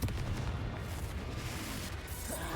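A Confringo curse spell exploding in the Hogwarts Legacy game, a low booming blast at the start that gives way to a rumbling, crackling tail fading over a couple of seconds.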